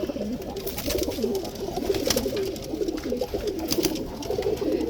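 Silver-necked male pigeons in a cage coo steadily, a throaty rolling murmur from several birds overlapping close by, with a few brighter clicks and flutters above.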